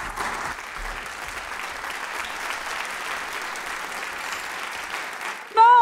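An audience applauds in the Salle Pauline-Julien concert hall at a show launch, steady dense clapping sustained throughout, with a louder burst at the very end.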